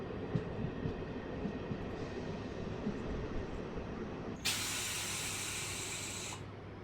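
A MEMU passenger train at Relangi railway station gives a steady low rumble, then a loud, sustained hiss of air bursts out partway through and runs for about two seconds before cutting off. No one speaks.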